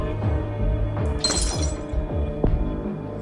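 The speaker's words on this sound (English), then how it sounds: "bottle smashing" A glass bottle smashes in the video game Plague Inc: Evolved, a sharp shattering crash over a steady droning game soundtrack, followed by a few tinkling fragments.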